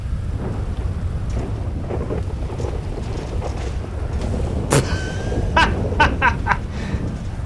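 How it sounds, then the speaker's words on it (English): Steady rumbling rain with deep thunder underneath in Grand Theft Auto V, plus a few sharp crackles and clicks toward the end. "The rain was definitely ominous."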